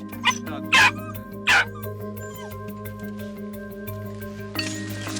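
Dogs give a few sharp, loud yips and whimpers close by, with short gaps between them, over a steady engine-like drone.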